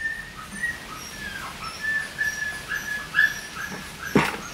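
A dog whimpers and whines in thin, high repeated cries at a rural riverside spot, moderately close, with faint bird chirps in the background and a sharp knock near the end.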